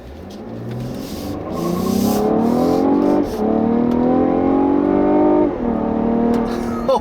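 A 2016 Cadillac CT6 with its 3.0-liter twin-turbo engine accelerates hard, the rising engine note climbing steadily through the gears and dipping briefly at each shift, loud and close from inside the cabin.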